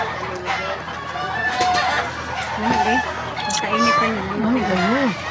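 Chickens cluck repeatedly, fairly close and prominent, with warbling calls rising and falling throughout and background voices talking nearby.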